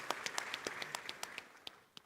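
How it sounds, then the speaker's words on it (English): Audience applause at the 30th Afreximbank Annual Meetings in 2023, a brief, faint, scattered clapping with distinct individual claps that thins out toward the end. "Please give him a round of applause."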